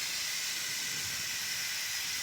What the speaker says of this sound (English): So that's now releasing the pressure cooker.